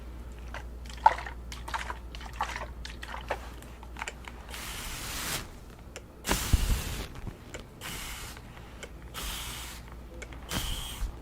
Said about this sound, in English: I'm gonna apply some mist water, distilled water with rose water.